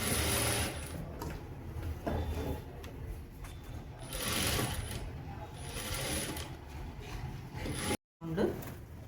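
A sewing machine stitches a semi kotori blouse in short, steady runs of rapid needle chatter, close and moderately loud, pausing between bursts with brief handling noise.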